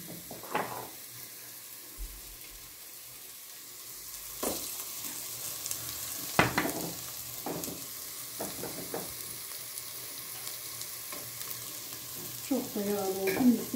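Butter goes into a hot pan, setting off a quiet, steady sizzle punctuated by scattered taps and scrapes, with a brief clattery burst of metal near the end.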